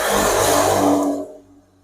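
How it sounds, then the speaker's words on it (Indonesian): A Suzuki Force 1 ZR motorcycle engine, freshly fitted with a carburetor, runs loud and close with a rough revving roar, then drops away abruptly to a faint low idle rumble near the end. "kita pasang di motornya, lalu kita nyalakan motornya"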